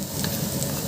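Dried red chillies sizzling in hot oil, a brief close frying hiss with light stirring, steady and alone.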